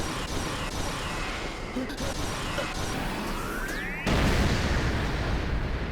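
A classroom blows apart in an anime explosion, a sustained roaring blast with a fresh surge of louder rumble near the end, broad and forceful throughout.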